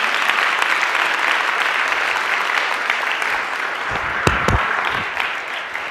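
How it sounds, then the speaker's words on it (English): An audience claps steadily and loudly throughout, a dense wash of applause with a few sharper claps standing out near the end. "a big round of applause for Brian Lunduke"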